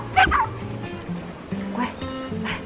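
A puppy barks and yips in short bursts, loud and close, with faint whimpers and a low background murmur between the barks.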